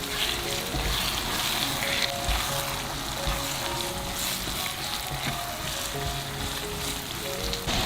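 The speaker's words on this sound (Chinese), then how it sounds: "熬出辣椒油了，我们就来把紫苏加进来。 紫苏倒进来，如果发现油少了，可以再加一点点油。" Perilla leaves frying in chili oil with fish sauce for a Hakka chili sauce, producing a loud, dense, continuous sizzle and crackle that holds steady throughout, with no talking.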